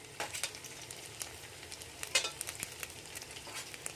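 Garlic fries in a pan for egg schezwan fried rice, a faint, quiet sizzle with scattered light scrapes and clicks of a utensil, no voices.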